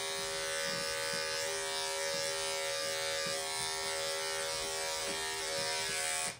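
Electric pet grooming clippers buzz steadily and close up while trimming the paw pads of a Wheaten terrier, a continuous high drone that cuts off at the end.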